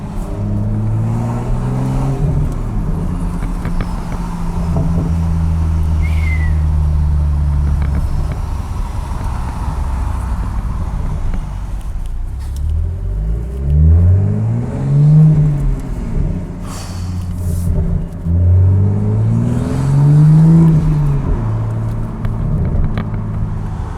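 A Toyota MK5 Supra fitted with a Tomei dual titanium exhaust drones along, then revs twice in rising and falling sweeps, heard loud and close from inside the car without talk.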